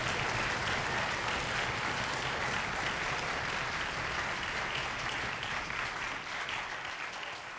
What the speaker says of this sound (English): we do need to give one more round of applause to the talented 2023 APAC Band